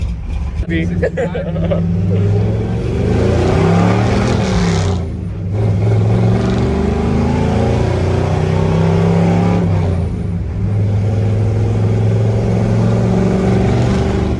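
A Chevrolet C20 truck with an upgraded cam accelerates hard, its engine note rising and holding steady in a loud, continuous roar with brief dips between gears, heard from close by with voices in the background.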